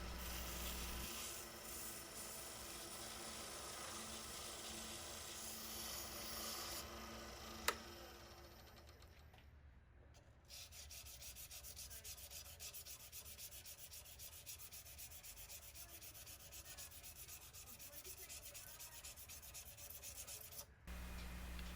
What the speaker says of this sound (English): I'll start with about 320 grit sandpaper and work my way to 600